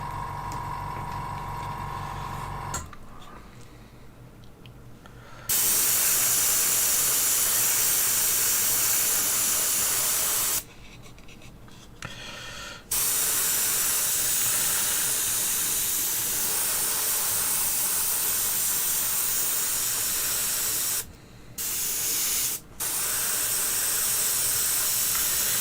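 Bursts of spray paint hiss onto a Lord of the Rings model, several long steady blasts broken by short pauses, loud and close with no talking.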